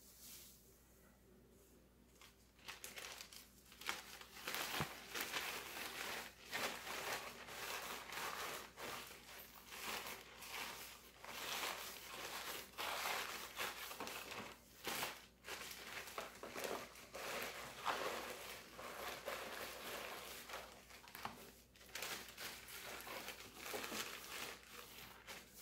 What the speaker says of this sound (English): And then my next step is to put my crinkle paper in.